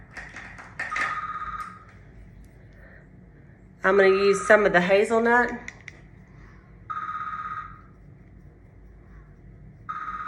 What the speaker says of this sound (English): Just ignore that ringing in the background, right?